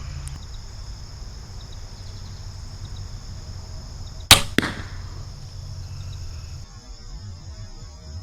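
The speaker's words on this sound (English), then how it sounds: "Now I'm going to shoot the second arrow." A Barnett Blackcat Recruit crossbow fires an arrow at a target outdoors: a sharp, loud crack of release, then a second snap a split second later, set against a steady insect drone and hum.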